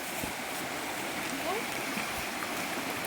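A small stream flowing steadily, a continuous close rushing and babbling wash of water with no break.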